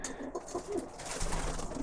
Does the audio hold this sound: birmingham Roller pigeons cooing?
yes